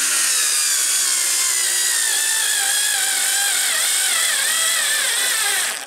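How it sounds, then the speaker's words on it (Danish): A SKIL 2710 power screwdriver drives screws into hard wood, a steady, continuous motor whine that strains under load for several seconds without pause, loud and close with no talking. "Den kan godt nok godt skrue dem i, men det tager lang tid"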